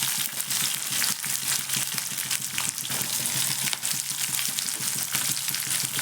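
Sliced onion and green chillies fry steadily in a hot pan for beans palya, a loud continuous crackling sizzle close by with faint scraping stirs and no voices.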